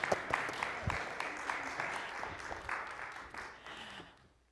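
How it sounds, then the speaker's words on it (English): A church congregation claps steadily, a moderately distant wash of applause with no voices, gradually thinning and fading out toward the end. "You can clap for them."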